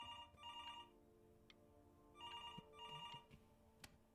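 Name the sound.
telephone ringing in video game Before Your Eyes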